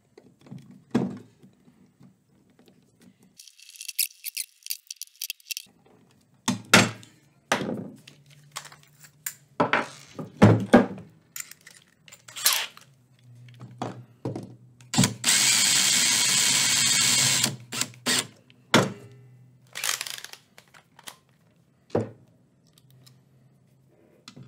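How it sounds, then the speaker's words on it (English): Screws driven in by hand with a regular screwdriver during construction of an AI case sorter, giving scattered close clicks, scrapes and thunks with a longer grinding stretch midway. "And now I can just put those screws in. So I just use a regular screwdriver."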